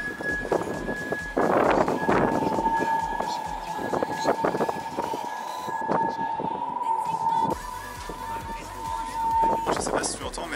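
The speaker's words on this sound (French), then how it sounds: "c'est le son du vent qui souffle dans les pales en fait, qui sont placées tout en haut pour équilibrer la structure" Wind blows through the stabilizing blades at the top of the Taipei 101 tower, making a thin, steady high whistle with a second tone that lingers behind people talking and the echoing bustle of the observatory.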